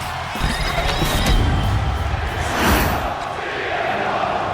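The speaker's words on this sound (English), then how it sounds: "The crowd chanting for CM Punk" A wrestling arena crowd in WWE 2K25 roars and chants for CM Punk at a match, a loud, dense wash of voices swelling twice over the short stretch.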